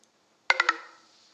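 A phone's low-battery alert: a quick run of three bright electronic beeps in a row, clear and close, ringing out briefly into a quiet background.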